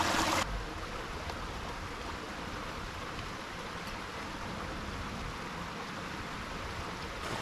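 Fast-flowing white water of a woodland beck rushes as a continuous, even broadband wash. It runs alone and steady from start to finish with no voices.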